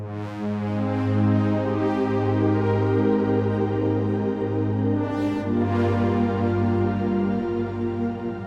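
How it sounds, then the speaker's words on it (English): A Yamaha Montage M synthesizer plays a Cosmic Pad to Pluck patch, sustained layered tones holding steady, with a few brighter swells partway through and no talking. "This is a sound called Cosmic Pad to Plug."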